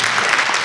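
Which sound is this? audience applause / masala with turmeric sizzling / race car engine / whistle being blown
audience applause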